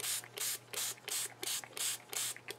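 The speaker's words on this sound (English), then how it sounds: "I spray the spray" A spray bottle fires a series of about seven quick hissing bursts onto paper in a steady rhythm, close and fairly quiet, with a low hum underneath.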